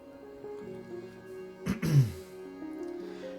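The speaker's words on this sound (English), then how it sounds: "I already clear my throat a lot" A man clears his throat once in a short rough burst, close and moderately loud, over faint background music or game sound.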